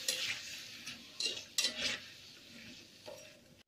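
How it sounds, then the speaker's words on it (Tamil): Raw banana pieces are stirred in a pan, giving a few quiet scraping swishes and soft spatula knocks with short pauses between them. "இதை நல்லா கிளறி விட்டுக்குவோம்"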